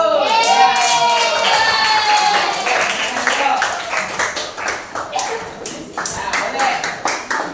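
Audience applause at a religious talk about faith in God, loud, close clapping from a group, irregular and sharp, with children's voices and excited squeals mixed in and fading toward the end.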